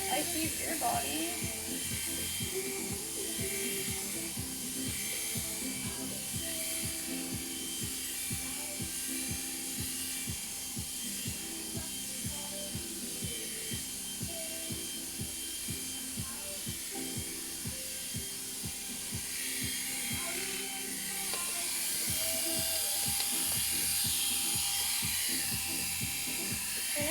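Electric clippers shave a Labradoodle's coat with a steady, close buzzing hum that runs without a break, its tone shifting slightly as the blades move through the fur.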